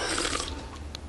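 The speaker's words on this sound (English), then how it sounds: "We're having a burp contest, Mom." A single drawn-out cartoon burp from a burping contest in The Simpsons, loud, close and gurgling, lasting about a second with no talk over it.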